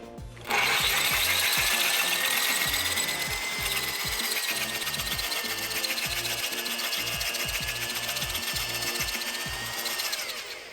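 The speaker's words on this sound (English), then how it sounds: "we want to take the drill and we want to move it off axis a little bit" A power drill cuts a faucet hole into a Corian solid-surface countertop, with a steady, loud, continuous grinding whine running unbroken for about ten seconds.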